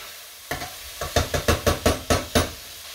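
Onion sizzling as it's added to a hot pan for slow sautéing in a lamb-and-potato stew, with a burst of crackling followed by a steady run of rhythmic stirring scrapes and sizzles, close and clear.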